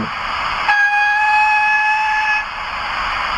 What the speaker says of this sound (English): So let's play a couple of these whistles, and this is the first one